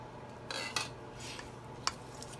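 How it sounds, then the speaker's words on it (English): Eggs and melted butter for a pecan pie filling are mixed in a bowl, making a few faint clinks of a utensil against the dish over a quiet background. "We're going to mix that together."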